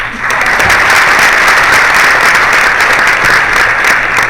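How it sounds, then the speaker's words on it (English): A crowd at a City Lab Baltimore graduation gathering gives a loud, sustained round of applause, thick even clapping that holds steady for several seconds with no talk over it. "Nice round of applause to City Lab"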